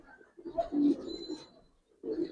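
Pigeons, fancy Giribaz and coloured breeds kept overhead in a loft, give low soft coos in a couple of short bursts with a pause between, close by and moderately loud.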